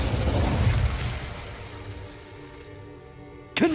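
An Incendio fire spell cast in the video game Hogwarts Legacy, a loud whooshing burst that fades into a softer crackling, humming tail, ending with a sharp new pop.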